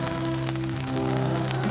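Steady rain pours on surfaces throughout an outdoor church sermon, a dense continuous patter with a low sustained hum underneath.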